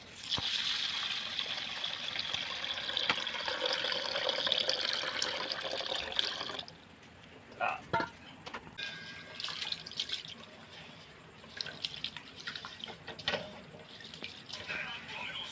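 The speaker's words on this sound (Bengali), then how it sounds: "টিঙ্কু ভাই জলটা দাও" Water pours steadily into a pot for cooking bashkathi rice at an outdoor riverside picnic, a loud continuous gush for several seconds followed by softer trickles and clatter, with people talking nearby.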